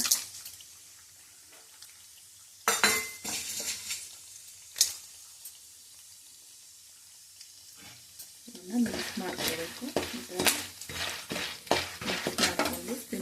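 Jowar (sorghum) goes into a pot and boils, heard as a near-silent start broken by sharp metallic clanks, then bubbling and stirring with utensil knocks and scrapes growing busier toward the end.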